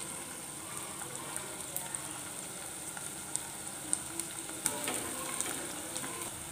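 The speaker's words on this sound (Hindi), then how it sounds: "सॉटे कर लेते हैं। कर लेंगे अदरक लहसुन का पेस्ट।" Ginger garlic paste sautéing with onions in a pan for a chicken dish, a soft, steady sizzle and crackle with small pops and stirring scrapes, close but quiet, with no talking.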